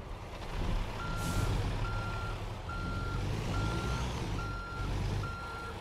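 Kenworth truck backing up in American Truck Simulator: evenly spaced reversing beeps repeat about six times over a loud, steady diesel engine rumble, with no talking.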